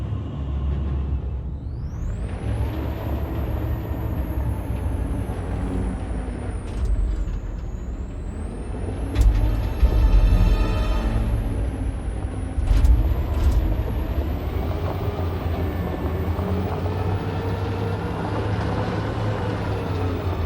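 A truck's air brakes hiss and release over a steady low engine rumble in the video game Detroit: Become Human, with louder surges midway and no talking.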